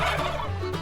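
A turkey gobbles loudly and close by, a rapid warbling, throaty burst that fills the short moment.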